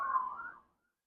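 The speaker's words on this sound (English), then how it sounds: "wondering if y'all heard the sirens" A distant emergency siren wails briefly in a single faint, wavering tone that fades out within a second, leaving silence.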